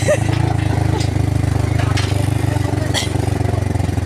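A motorized tricycle's small engine labors under load, giving a loud, rapid, pulsing chug that holds steady and close throughout with no letup.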